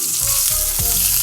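Ribeye steak seared in a hot pan with oil just after flipping, giving a loud, steady close-up sizzle and crackle with a few soft scraping or stirring touches, and no talking.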